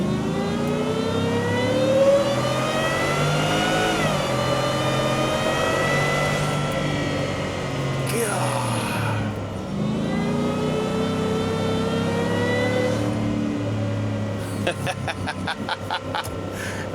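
A 2023 Ford F-150 Shelby pickup accelerates hard. The engine climbs through rising, whining revs with distinct gear-change dips, close and loud throughout.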